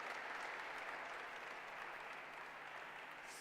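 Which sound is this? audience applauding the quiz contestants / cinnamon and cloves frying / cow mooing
audience applauding the quiz contestants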